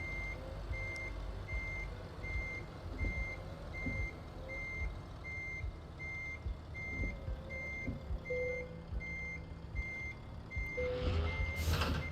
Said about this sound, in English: Vehicle reversing. Vehicle reversing.